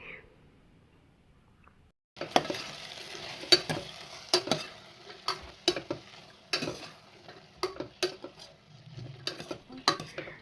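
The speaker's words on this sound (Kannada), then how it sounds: "ಸೇರಿಸ್ಕೊಂಡು ಚೆನ್ನಾಗಿ ಒಂದೆರಡು ನಿಮಿಷ ಹಾಗೆ ಬಾಡಿಸ್ಕೊಳ್ತಾ ಇದ್ದೀನಿ" Peanuts and vegetables sauté in a hot pan, a steady sizzle under repeated sharp clinks and scrapes of a utensil stirring against the metal, starting abruptly after a quiet moment.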